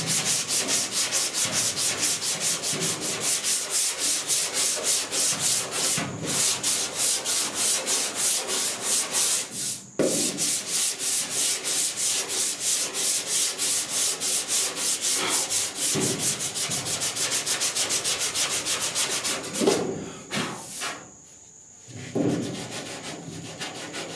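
A sanding block works primer surfacer on a 1966 Ford F100 truck dash and firewall, giving steady rapid back-and-forth rasping strokes, close and alone, with brief pauses and a slower uneven stretch near the end.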